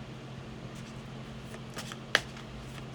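Tarot cards being shuffled by hand during a live reading, soft riffling swishes building to a sharp snap near the end, close and fairly quiet over a low steady hum.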